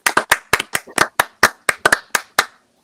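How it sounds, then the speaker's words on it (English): A comedy workshop audience claps for a comedian who has just finished, the claps coming as sparse, distinct, close hand strikes in an uneven rhythm that stops after about two and a half seconds. "let's give a round of applause for Lexi Green"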